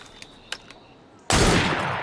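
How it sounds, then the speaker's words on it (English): Gunfire in an Assassin's Creed Syndicate cutscene: a few faint distant pops, then one sudden loud shot that rings out and sustains to the end. "That sounded like a second gunshot."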